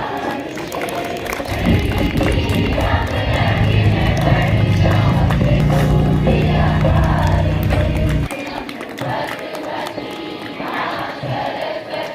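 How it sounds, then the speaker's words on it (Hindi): Loud crowd applause and cheering swell at a primary school farewell ceremony for pupils finishing fifth grade, a dense roar of clapping lasting several seconds before easing to a quieter murmur. "ताली बजा रहे हैं।"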